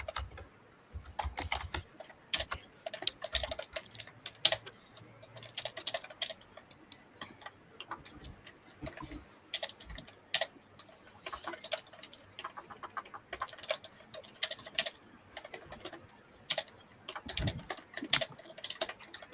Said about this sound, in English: you could always tell when Shay is typing because it sounds like a woodpecker